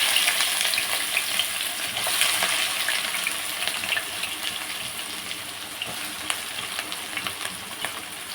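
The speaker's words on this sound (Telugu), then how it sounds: "ప్యాన్ పెట్టి ఆయిల్ పోసాను ఇప్పుడు మనం ఇదిగోండి ఆయిల్ ఈ టెక్నిక్గా ఉల్లిపాయలు పచ్చడిగా వేస్తున్నాం" Chopped onions sizzle in hot oil in a pan on a stove, a steady bright frying hiss with small crackles and stirring scrapes throughout, close up and without talk.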